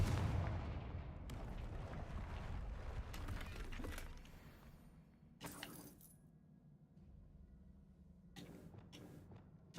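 A Confringo blast spell is cast in a Harry Potter video game. A sharp burst is followed by crackling and rumbling debris, then fainter impacts and a couple of further bright bursts toward the end.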